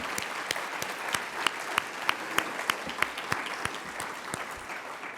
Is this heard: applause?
yes